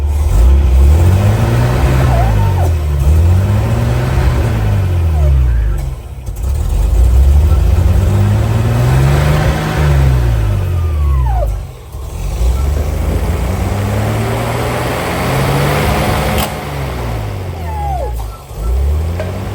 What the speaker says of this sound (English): Blocking the intake at a high engine speed